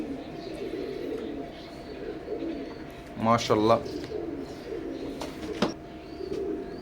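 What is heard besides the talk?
Oman bloodline teddy pigeons cooing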